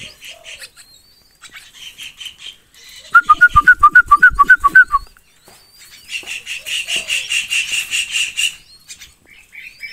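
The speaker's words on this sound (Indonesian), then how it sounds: "kita kasih makan burung perkutut" Zebra doves (perkutut) coo and chirp while being fed outdoors, a rhythmic run of soft pulsed coos in the middle with high twittering calls before and after, fairly close and with no talk.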